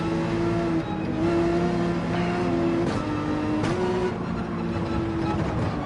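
A Porsche 911 racing at Deep Forest in Gran Turismo 7, its engine holding a steady, loud tone with small pitch shifts as it climbs and eases through gears. Other cars pass faintly underneath.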